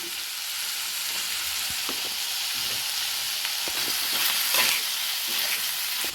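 Flat beans frying in oil in a pan as turmeric goes in, a steady loud crackling sizzle throughout with occasional stirring scrapes and small pops.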